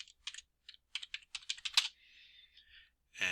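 Close, crisp keystrokes on a computer keyboard while entering layer names in ArcGIS mapping software, an irregular burst of clicks followed by a brief pause and a final tap.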